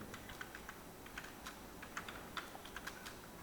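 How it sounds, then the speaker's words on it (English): Soft clicks of a computer keyboard's tab key being pressed, a quick irregular series of faint, close taps with no talking. "Now I am going to press again tab key."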